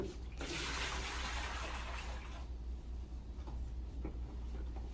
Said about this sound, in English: This water will be disposed in the toilet.